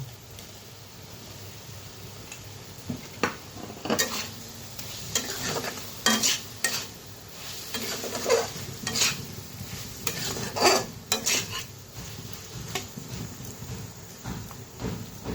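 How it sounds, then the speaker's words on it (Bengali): Potatoes stirred and fried in a pan for jhinge dalna, a ridge gourd curry, with a soft continuous sizzle under repeated scraping and clacking strokes of a spatula, close and moderately loud. "তো এখানে আমি আলুগুলো দিয়ে আবার ভালো মতো কষিয়ে নেব।"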